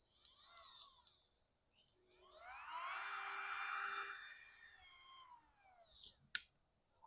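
A Sharp Pebble cordless sharpener, a high-speed rotary tool used on lawn mower blades, spins up in a rising whine, holds a steady high-pitched tone, then winds down, ending with one sharp click.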